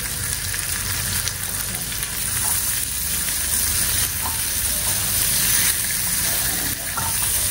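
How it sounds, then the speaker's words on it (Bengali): Chicken with green chillies and chunky onion pieces stirred in a frying pan, a steady close sizzle with spoon scrapes and scraping strokes running throughout, no talking. "এখন কটা কাঁচামরিচ দিলাম, একটু বড় বড় করে পেঁয়াজ দিয়ে নাড়াচাড়া করে নামাই ফেলবো"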